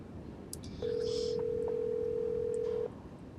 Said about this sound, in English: I meant to call Ned. I called George and Bess instead.